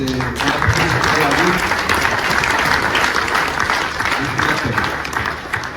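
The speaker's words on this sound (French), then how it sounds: "je voudrais qu'on l'applaudisse" A large crowd applauds steadily at the inauguration of the Vendée Globe 2024 village, a dense, loud wash of clapping that holds for several seconds with voices mixed in underneath.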